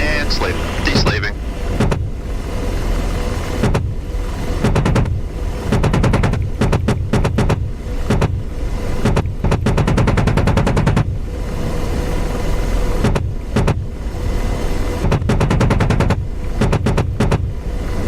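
An AH-64D Apache's gun firing in the combat flight game DCS World, heard as repeated sharp rattling bursts over a constant loud engine and rotor drone, with talk over the top.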